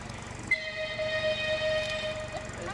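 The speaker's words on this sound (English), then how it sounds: "There's more choo-choo train." A train sounds its horn in a sustained steady tone over a background rumble, heard from a moderate distance outdoors at a pumpkin outing.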